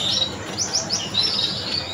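A parrot gives repeated high, thin chirping calls in quick sweeps over a steady outdoor hiss, with no voices heard.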